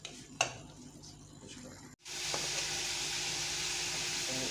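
Mutton white karahi masala frying in a pan, a steady loud sizzle that starts abruptly partway through after a quieter stretch with a light clink, continuing evenly to the end.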